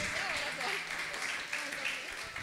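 A church congregation applauds, a steady wash of clapping running under a speaking voice for the whole stretch.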